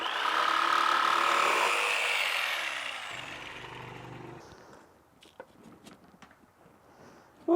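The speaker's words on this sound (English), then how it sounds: "So I got this fiber cement / plaster blade for the jigsaw." A jigsaw fitted with a fiber cement and plaster blade cuts through house siding, a loud high-pitched buzzing whine that winds down after a few seconds, followed by scattered knocks and handling noises.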